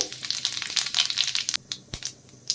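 Dry red chilli and whole cumin sizzling in hot oil for a sabudana upma tempering, a bright crackling hiss with quick popping bursts that thins out near the end, close and alone.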